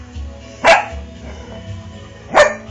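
A pet dog gives two sharp, loud barks about two seconds apart, close by, over a low steady background hum.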